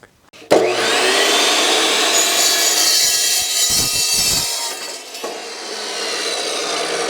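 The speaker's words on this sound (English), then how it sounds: "So let's cut this tubing." A power saw cuts through metal suspension link tubing for a one-ton Dana 60 Land Cruiser 3-link coilover build, a loud, steady grinding whine that runs for about seven seconds after a sharp start, dipping briefly midway.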